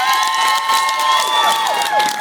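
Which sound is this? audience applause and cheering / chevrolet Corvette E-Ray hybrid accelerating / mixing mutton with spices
audience applause and cheering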